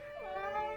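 A cat in an animated film gives one short rising meow, close and clear with no talk.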